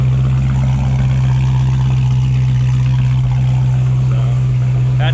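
Hellcat exhaust on a Chrysler 300 with catless mids, a steady deep idle rumble with a strong low drone, close by and unchanging for several seconds.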